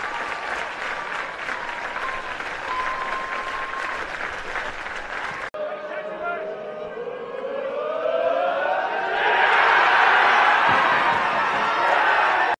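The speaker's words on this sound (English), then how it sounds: "A big round of applause for him." Crowd applause at a county intermediate football final between Corofin and Kildysart, honouring the late Willie Corbett; steady clapping throughout, swelling louder toward the end with a tonal siren-like sound early on.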